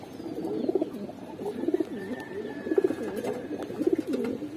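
Afsan bagha silver Giribaz pigeons coo close by in a repeating rhythm, each throaty rolling call swelling and fading in turn against a quiet background.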